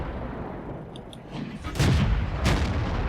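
AT-8 tank destroyer's gun firing in World of Tanks, two loud booming shots about half a second apart over a steady rumbling engine background.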